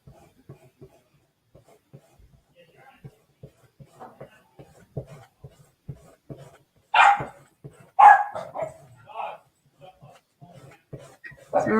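Pet dogs bark indoors in a home craft room, a few sharp loud barks bursting out midway after a stretch of faint tapping and rustling, with quieter yips following.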